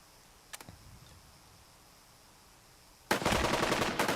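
Burst of machine gun fire in the WWII-style tactics game Burden of Command, loud and dense near the end after a quiet stretch with a couple of faint earlier shots.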